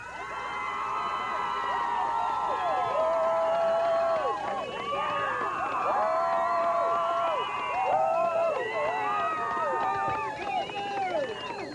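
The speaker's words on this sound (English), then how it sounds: "Listen to this noisy crowd from Dawson County." A noisy home crowd at a Dawson County high school football game roars steadily, a dense wash of shouting and cheering voices that carries on unbroken and moderately loud.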